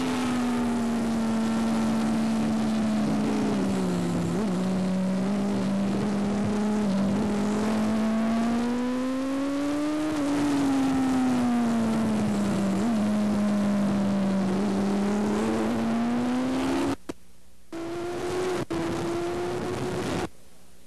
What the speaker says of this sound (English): Here we are on board with Chuck Graves at Brainerd International Raceway. You can see and hear how he uses the throttle